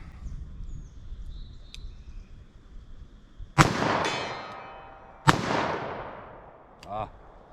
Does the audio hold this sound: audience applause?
no